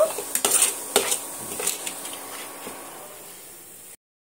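Fried onions for a vegetable biryani being scooped from a pan onto a plate, with close scraping and clinking of a utensil. The scraping is busier at first, thins out, then stops abruptly.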